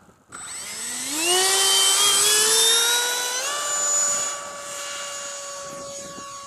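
A Freewing L-39 model RC jet spools up for takeoff and climbs, a high electric ducted-fan whine rising steeply in pitch, holding loud, then stepping up again and easing slightly as it goes up.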